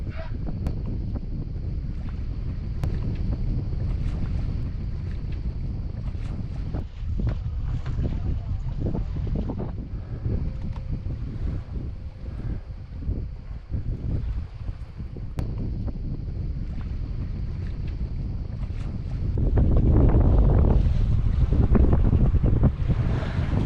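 Wind buffets the microphone steadily while a junk-rigged sailboat tacks out of a bay, with water washing along the hull and a louder gust near the end; a voice speaks under the wind.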